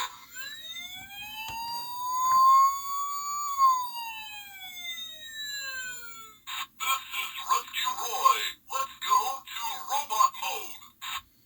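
Tonka Transformers police toy playing electronic siren effects: a rising and falling wail, then a rapid warbling yelp, moderately loud and close.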